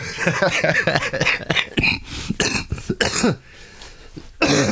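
A person coughs and clears their throat several times in short bursts, close and fairly loud, with a brief chuckle mixed in.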